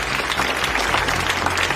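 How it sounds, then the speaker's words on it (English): Steady, close applause from an audience at a gathering, a dense wash of clapping filling the whole short stretch with a faint crowd murmur beneath. "A round of applause for her, please."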